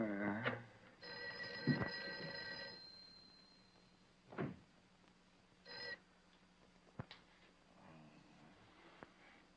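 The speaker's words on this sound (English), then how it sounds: "Mary, see if you can get Jan on the phone" A telephone rings unanswered in an office building at night, a bright harmonic bell tone repeating in a few bursts with quiet gaps and faint thumps between.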